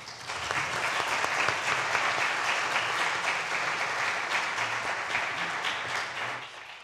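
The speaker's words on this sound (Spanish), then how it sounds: "solamente pedirles pues un aplauso de bienvenida." Audience at a book presentation for a Spanish history title giving welcome applause: a dense, steady round of clapping that swells at the start and holds before tapering off near the end.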